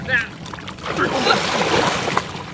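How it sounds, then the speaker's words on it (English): A rescue boat carrying a crew drops into the water during a drowning-rescue drill, giving a burst of splashing and sloshing that continues under nearby talk. "Boat 1 hit the water with a crew"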